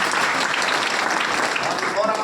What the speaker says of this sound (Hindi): देखिए इस लड़के के लिए जोरदार ताली बजाइए